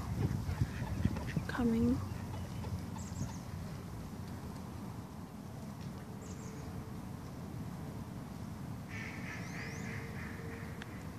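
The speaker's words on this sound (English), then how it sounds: "food in the hand. The ducks are coming" Ducks quack in brief calls as they approach to be hand-fed, rising over steady outdoor background noise while a person speaks.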